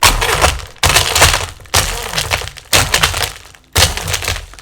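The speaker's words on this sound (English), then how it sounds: "And we're going to blend it." A blender pulses in five loud bursts while blending an ice cocktail, each a harsh grinding roar of ice and liquid that cuts off abruptly before the next.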